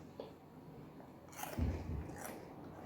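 Crunchy Turkish soy pistachio nuts bitten and chewed close to the mic, a few sharp crisp crunches standing out in the middle over a faint background hiss.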